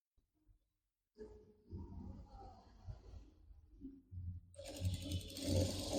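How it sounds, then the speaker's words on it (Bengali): A sewing machine runs in short bursts and then a steady louder stretch, stitching fabric for a women's pajama. The whirring is mechanical and close, with no voices. "এক পাশ দিয়ে সেলাইটি শুরু করবো"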